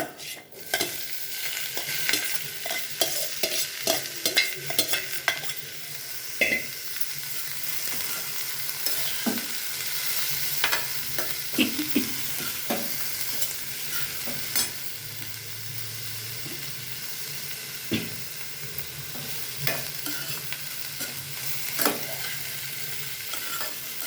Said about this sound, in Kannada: ಇವಾಗ ಇದು ಕಡವಲ್ಕಾಯಿ ಹಾಕ್ತಾ ಇದ್ದೀನಿ ರೀ ಈ ಥರ